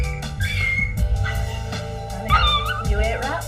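A four-month-old dog at the vet after eating rat poison, giving short high whimpers and yips in quick uneven bursts, with voices and room noise underneath.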